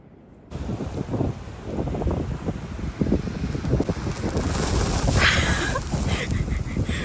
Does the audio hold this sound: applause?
no